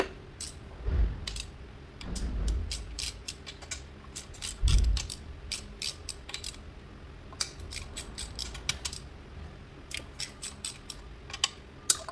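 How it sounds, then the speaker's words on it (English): A ratchet clicks in quick bursts while 10 mm bolts come out of a 2003 Mitsubishi Eclipse engine during valve cover work, with a few heavier metal knocks between the crisp close-up clicking and no speech. "We'll just go ahead and pull that 10 out of there real quick."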